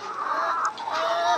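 Layer hens at 113 days old in a poultry farm, a continuous chorus of clucking and calling from many birds close by, with no talk.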